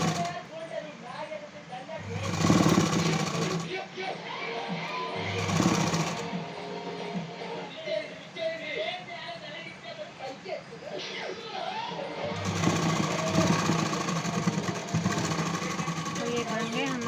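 A sewing machine stitches a boat neck blouse in short bursts, its whirring runs starting and stopping while someone talks over it nearby.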